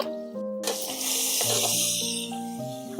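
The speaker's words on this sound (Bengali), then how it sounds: "সর্ষে পোস্তটা একটুখানির জন্য আমি জাস্ট তেলের সাথে কষে নেব" Mustard and poppy seed paste sizzling in hot oil in a pan, a loud continuous frying hiss that starts abruptly and holds steady, with faint background music underneath.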